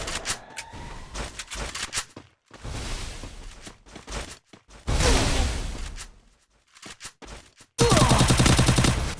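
Gunfire in a shooter video game tournament comes in rapid automatic bursts separated by short gaps, growing louder toward a final dense barrage.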